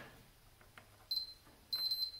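Two short, high electronic beeps from a continuity tester checking wiring on a Yaesu handheld radio, close and clear, with faint handling clicks and a quiet background.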